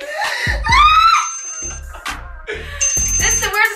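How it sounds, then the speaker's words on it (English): A person yells loudly at close range into someone's ear during an annoying-prank challenge. The yelling comes as several shrill, harsh bursts separated by short pauses. "This is the worst when someone yells in your ear."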